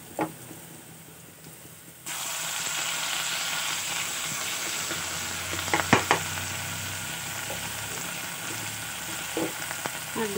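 Ginger garlic paste hits hot oil in a pan for a potato and soybean curry, and a loud, steady sizzle suddenly bursts in after a quieter start, with occasional stirring scrapes.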